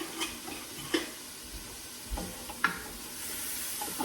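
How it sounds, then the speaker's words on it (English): Goat shoulder and potatoes sautéing with tomato paste in a pan, a spoon stirring through them in scattered scrapes and clacks over a soft, steady sizzle. "now we're gonna saute all this together."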